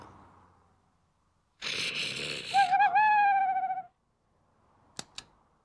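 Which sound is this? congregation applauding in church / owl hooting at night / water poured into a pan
owl hooting at night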